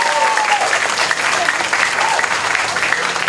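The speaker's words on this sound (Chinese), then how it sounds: "我们再一次给全国会长掌声鼓励，好不好？" Sustained, dense applause from an indoor audience at a gathering honouring a national association president, steady clapping throughout with faint voices underneath.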